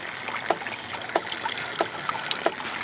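Water from a homemade ram pump trickles into a bucket, a soft continuous splashing wash punctuated by regular gentle plops roughly every two-thirds of a second, close and quiet with no talking.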